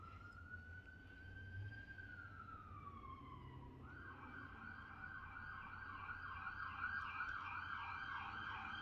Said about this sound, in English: I kind of feel like this siren is kind of echoing that